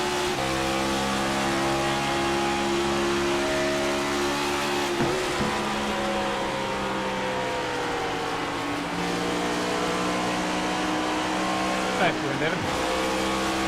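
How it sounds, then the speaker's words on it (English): A race car in a NASCAR-style racing video game at Nashville roars steadily at high revs, with engine pitch dipping briefly twice as the throttle lifts, under commentary from a speaker. "Sally having lift off the throttle there. You can hear it on the recording."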